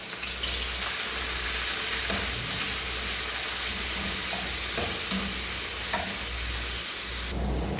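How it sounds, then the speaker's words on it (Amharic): Onions frying in hot oil, heard as a steady, close sizzle and hiss with occasional stirring scrapes. "እዚህ ጋር ዘይቴ ከጋለልኝ በኋላ ሽንኩርቴ እጨምርና አበስለዋለሁ"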